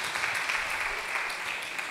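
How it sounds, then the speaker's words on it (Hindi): Applause from participants at a catechists, laity and youth evangelisation workshop, a steady, fairly quiet patter of clapping that continues throughout without pause. "लोगों को थोड़ा ताली बजा के धन्यवाद दे दो"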